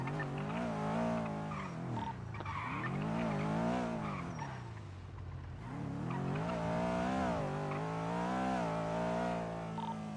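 A black SUV drives in a video game with continuous engine roar and sweeping pitch rises and falls, joined by loud tire skidding and squealing throughout.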